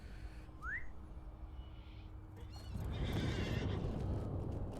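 A horse in The Lord of the Rings Online gives a short whinny early on, followed by a steady run of hoofbeats that swells louder toward the end, with no talking.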